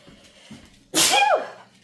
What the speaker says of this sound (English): that pepper is making me want to sneeze